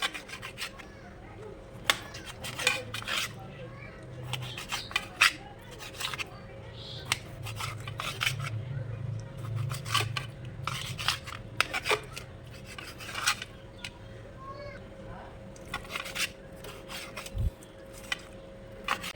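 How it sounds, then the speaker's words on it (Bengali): Repeated knife strokes slicing and tapping on a cutting board as chicken breast is cut into small pieces, irregular short cuts over a quiet background hum. "এগুলোকে আমি ছোট ছোট টুকরো করে কেটে নিব"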